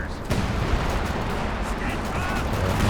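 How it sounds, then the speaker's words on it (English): Company of Heroes 2 artillery fire in a 1v1 match between German and US forces: heavy booms and rumbling blasts roll continuously over a dense battlefield, with a commentator talking through the barrage. "Major artillery."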